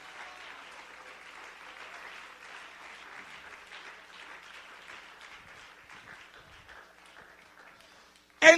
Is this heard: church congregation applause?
yes